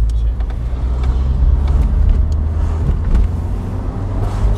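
Lancia Dedra Integrale 8v engine rumbling steadily at low revs while driving through evening traffic, a continuous close droning hum with faint road noise around it.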